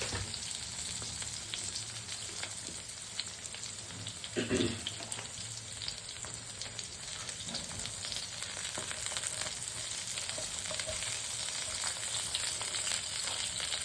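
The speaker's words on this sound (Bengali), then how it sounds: "ধিমে আঁচে ভাজা হবে।" Eggplant slices and chopped garlic frying in a small amount of oil with black cumin seeds over low heat, giving a steady, even sizzle with a few louder crackles and a brief stir, no talking.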